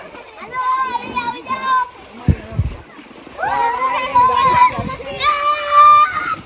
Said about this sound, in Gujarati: પાણી ઉડાડતું નહીં